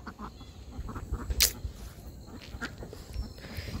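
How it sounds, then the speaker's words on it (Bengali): Ducks let out in the morning feed on rice at a village home, giving a few soft quacks and honks amid outdoor ambience, with one louder call near the middle. "আমাদের নিলয় বাবু সকাল সকাল হাঁস ছেড়ে দেখুন ভাত খাইতেছে"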